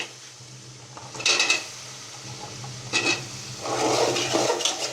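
Potatoes drop into a pan of fried spice paste for a fish curry, a close, busy clatter of a metal spoon scraping and knocking the pan in several bursts, with a soft wet hiss between them and no talking.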